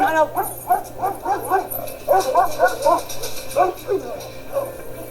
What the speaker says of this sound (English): on my command, unleash the hounds.